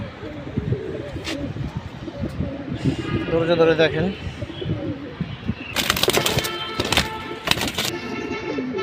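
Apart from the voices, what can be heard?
Jabra pigeon cooing and fluttering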